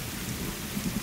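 Rain falls steadily as a sound effect in a sci-fi audio drama, a short close wash of dense patter with a low rumbling undertone, no voices.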